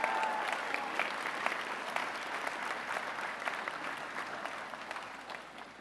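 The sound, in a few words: convocation audience cheering and applauding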